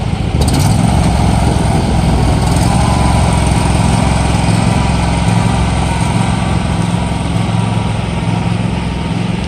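A John Deere LA175 lawn tractor drives up a good-sized hill, its small engine droning steadily and loudly close by throughout, with no break in the running noise.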